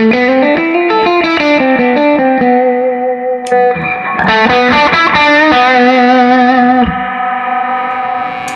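An electric guitar plays sustained, heavily distorted notes and chords with reverb trailing off each phrase, loud and up close with no voices.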